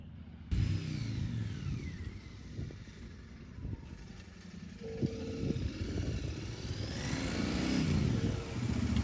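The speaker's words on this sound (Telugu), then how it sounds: "ఆడిపోయినా ఎగ్జాస్ట్ నోట్ ఇంకా వినిపిస్తుంది మనకి" A Royal Enfield Continental GT 650 motorcycle rides away on a dusty road, its exhaust a steady rumbling drone with a rising swell near the end, heard alone and fading against the open-air background.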